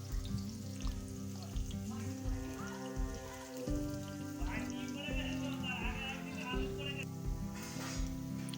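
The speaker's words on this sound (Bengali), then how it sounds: "সেই আলুটা আমি এবার খুব ভালোভাবে ভেজে নিচ্ছি খুব অনেক লাল করব না" Cut potato pieces frying in oil for a chicken dish, a dense close-up sizzle with a constant crackling patter like rain, louder bursts as the pieces are stirred, with music playing underneath.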